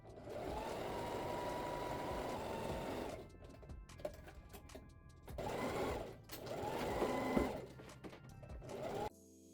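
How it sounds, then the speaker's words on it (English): A sewing machine stitches the shoulder side seams of a dress in steady bursts of fast mechanical stitching, pausing briefly between runs, with faint clicks in the gaps. "we're going to sew across the shoulder side seams"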